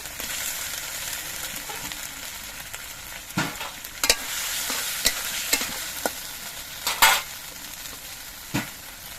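Chopped tomatoes hit hot oil in a pan for a no-onion, no-garlic curry, producing a close, steady sizzle punctuated by sharp clinks and scrapes of a spoon against the pan.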